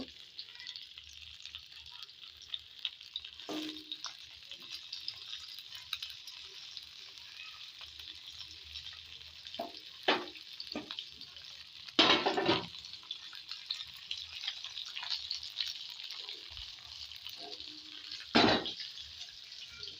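A big rohu fish frying in a pan hisses in a continuous, quiet sizzle. Occasional sharp clicks and spatters punctuate it, close by with no talking.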